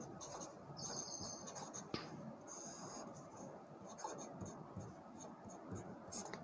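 Chalk or a marker scratches across a board in short strokes, faint and close, with a few high squeaks and a light tap, over a hissy room background.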